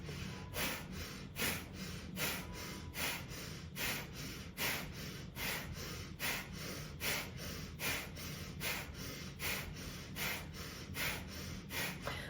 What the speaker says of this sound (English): So you're going to do a little bit of breath work with me right now.